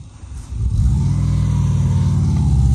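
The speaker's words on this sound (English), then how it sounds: "the Syncro will pull it uphill" A VW Vanagon Syncro engine revving as it pulls a trailer uphill, rising quickly from a quieter start into a loud, sustained, throaty drone that stays strong to the end.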